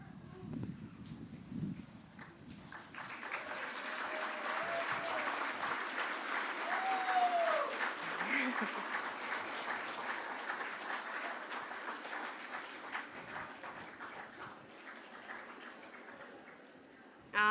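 Graduates at a spring college commencement ceremony applaud their families and friends in a large hall, with sustained, moderately loud clapping that swells and then slowly tapers off, plus a few faint voices.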